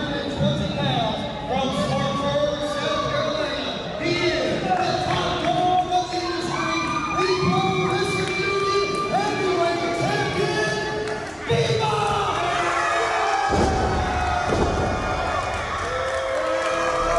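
A wrestling crowd roars and cheers for the Pro Wrestling Union heavyweight champion Bebop, loud and sustained with shouts and whoops layered throughout, a brief dip before the noise swells again near the end.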